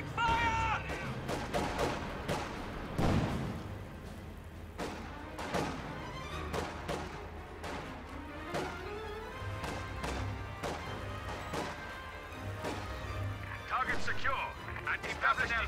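Scattered gunfire and heavy crashing impacts from a World War II battle in Company of Heroes, with sporadic shots and thuds under ongoing commentary talk throughout.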